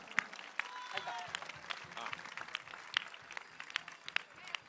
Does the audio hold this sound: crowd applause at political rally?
yes